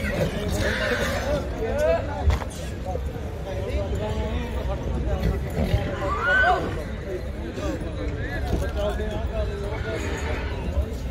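A horse neighs several times at a horse fair at Jagraon market, loud whinnies rising over constant crowd chatter and nearby talking, with some hoof clatter mixed in.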